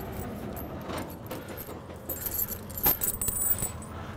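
Metal snow chains clink and rattle as they are handled and tightened on a truck's dual rear tires, soft jingling throughout that grows into louder clanks near the end, close up with no talk.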